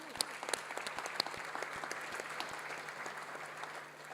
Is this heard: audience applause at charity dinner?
yes